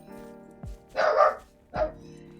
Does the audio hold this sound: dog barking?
yes